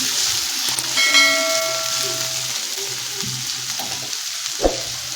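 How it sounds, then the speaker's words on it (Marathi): Potato and carrot pieces for a vegetable pulao frying in oil over a high flame, a steady broad sizzle running throughout with a few brief clinks and tonal ringing notes partway through. "हाय फ्लेमवरती बटाटा आणि गाजर आहे ते परतून घ्यायचं आहे"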